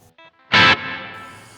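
A Nux Verb Core Deluxe pedal set to hall reverb with the tweak knob raised gives a short plucked guitar note, then a brighter burst whose wash lingers and slowly fades in a lively tail.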